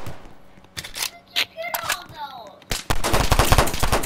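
Video game gunfire shot up at the sky: sharp broadband bursts, sparse and scattered at first, then a dense rapid volley of close, loud shots in the final second and a half.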